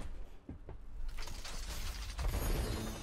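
An Overwatch loot box opening, with a mechanical clicking and ratcheting build-up that swells into a bright, sustained shimmering burst of effects, moderately loud with no speech.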